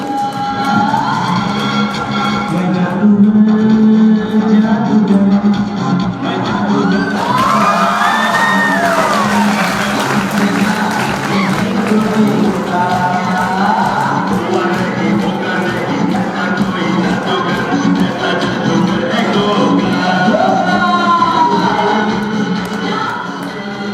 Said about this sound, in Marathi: टाळ्यांचा गजर द्यायचा आहे.